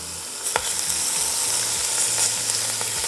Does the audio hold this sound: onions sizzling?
yes